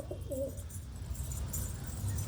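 Pigeons coo softly near the start while they are being fed, against a steady low rumble of background noise. The cooing is brief and fairly close.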